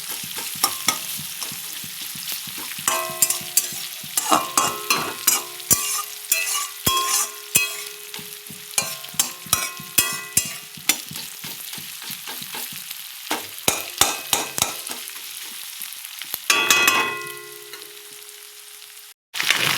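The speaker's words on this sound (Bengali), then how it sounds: "পেঁয়াজটা একটু সামান্য সামান্য ভাজা হবে, একটুখানি নরম হবে, আমি আলুটা দিয়ে দেবো" Onions and potatoes frying in a pan, with steady sizzling broken by frequent scraping, clattering strokes of a spoon as they are stirred, loud and close, ending in a brief pause.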